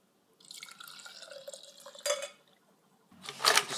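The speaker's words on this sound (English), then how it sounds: "Now I'm going to pour it into a glass." Liquid from a pineapple juice DNA extraction mixture trickles and drips into a glass, with faint splashing, a brief clink, a pause, then a louder gush of pouring near the end.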